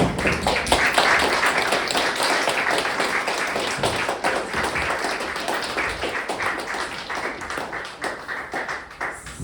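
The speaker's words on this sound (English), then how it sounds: "we'll give you one last big round of applause." An audience at a youth environmental leadership program graduation gives a dense, sustained round of clapping for the graduating students, loudest at the start and gradually thinning as it goes on.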